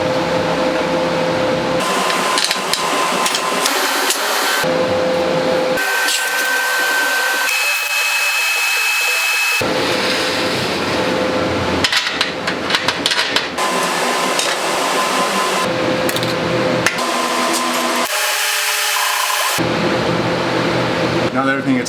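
TIG welding tack welds on the outside corner of a steel tube frame for a granite and steel kitchen cart, using 3/32 filler rod; a steady buzzing arc hiss comes in several bursts separated by short pauses.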